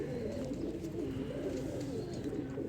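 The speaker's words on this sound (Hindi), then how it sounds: "ठीक है, वन टेल का कबूतर है।" A one-tail pigeon coos in low, continuous murmuring tones, faint and close, with steady soft background noise.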